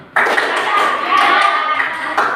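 A school group claps hands together in a classroom game, one sharp collective clap opening a burst of overlapping claps and taps that carry on loudly, with a final clap near the end.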